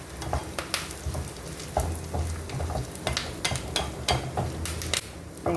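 A mixture with chili flakes is stirred while it fries in a pan, with a steady sizzle under repeated close scraping and clattering strokes of the utensil.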